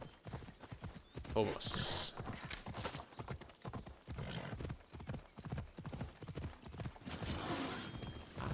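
Horse hooves in the video game Assassin's Creed Odyssey: rhythmic clip-clop of galloping hooves running throughout, with occasional whinnies, while someone talks over it.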